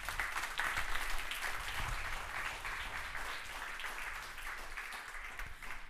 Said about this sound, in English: A big round of applause for these 5 finalists